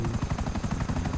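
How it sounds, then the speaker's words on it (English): Helicopter in a multiplayer video game, a loud rapid rotor thump pulsing steadily throughout the brief clip with no speech over it. "Everybody in the lobby is in my helicopter right now."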